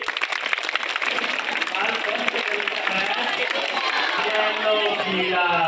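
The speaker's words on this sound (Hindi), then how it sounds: "दिखाई दिया तो बजा दीजिएगा ताली।" Schoolchildren clap and cheer at a school magic show, a dense, steady wash of many small hands with excited voices mixed in, holding at a fairly loud level throughout.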